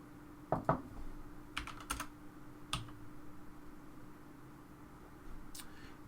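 Quiet keystrokes on a computer keyboard, a few scattered clicks and short bursts of typing close by with pauses between, over a soft room hum.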